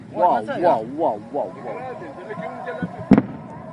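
Iron Dome interceptions explode overhead, heard as a rumbling backdrop with one sharp, loud boom near the end, while excited voices talk throughout.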